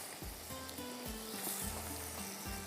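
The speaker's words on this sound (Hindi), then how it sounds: "बाकी जो बचा हुआ है इसको भी हम इसी तरह से फ्राई करते हैं।" Mutton pieces coated in batter like pakoras fry in hot oil with a dense, continuous sizzle and crackle, heard close and steady throughout, while stirring clinks faintly underneath.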